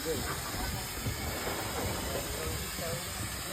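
Steam locomotive on the Severn Valley Railway hissing continuously, a dense steady rush of steam close by with faint voices and movement around it.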